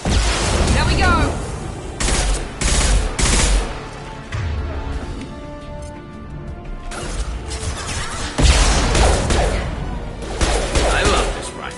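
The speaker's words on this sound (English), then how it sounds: "I love this rifle." Rifle fire in Mass Effect 2 lands as loud close cracks and crashing impacts in several bursts over game music, with people talking in between.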